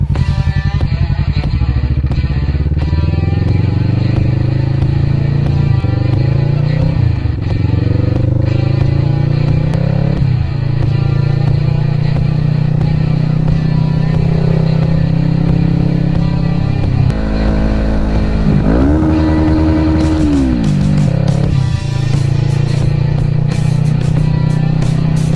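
A Kawasaki Vulcan S cruiser rumbles continuously while riding, its low engine drone rising and falling through gear changes and throttle, loud and close throughout.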